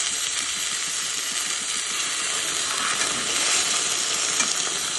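Pork chops fry in a hot pan for a Jamaican dish, giving a steady, dense sizzle with crackling spatter throughout, loud and close with no talking.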